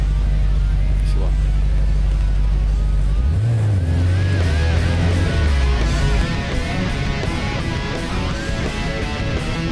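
A car drives a lap of a race track, its engine droning loudly and steadily, then shifting into a rougher, rising roar under ongoing talk between driver and instructor.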